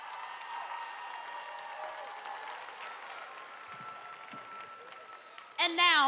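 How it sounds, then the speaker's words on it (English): Audience applause at a high school graduation ceremony, a steady wash of clapping that holds at an even level under background voices, then a louder voice cuts in near the end. "Let's give them another round of applause, please."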